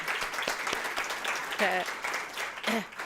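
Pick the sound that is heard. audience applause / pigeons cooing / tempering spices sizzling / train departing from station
audience applause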